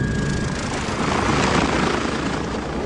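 A helicopter lifting off from ice after dropping off a passenger, its rotor and engine roaring loudly and close, a dense steady thrum that swells slightly midway, with no talking.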